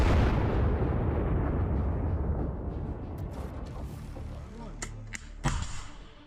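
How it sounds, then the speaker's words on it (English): A Kornet anti-tank missile strikes a Bradley armored vehicle, a loud heavy blast that rolls and decays over several seconds into a rumbling tail, with a few sharp cracks near the end, distant and booming. "The Russians spotted an approaching Bradley and launched a Kornet missile."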